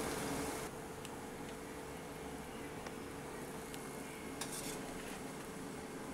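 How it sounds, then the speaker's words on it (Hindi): Puris deep frying in hot oil until golden on both sides, a steady broadband sizzle throughout with occasional faint clinks of utensils, loud and close with no talking. "दोनों तरफ से हम इसे गोल्डन होने तक फ्राई कर लेंगे"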